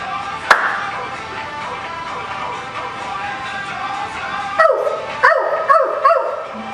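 Dogs bark in a short burst of several sharp yips and barks toward the end, close and loud, after a single sharp knock and a stretch of steady background hum.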